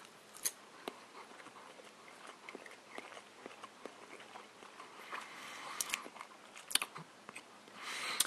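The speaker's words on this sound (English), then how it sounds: "No one wants to see me chewing breakfast at 6:17 in the morning" Someone chews McDonald's Big Breakfast eggs close to the mouth, with soft, irregular wet chewing and small clicks over a quiet background, faint overall.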